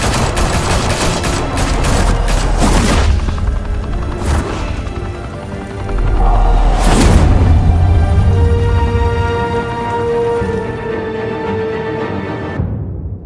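Gunfire in a shootout in Batman: The Telltale Series, loud sustained automatic bursts and rapid volleys with booming impacts, fading out toward the end.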